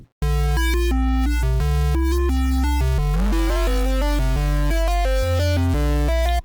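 A bright synthesizer with a second oscillator enabled plays a stepping sequence of sustained notes over a deep droning bass, thick and layered with a buzzy doubled tone.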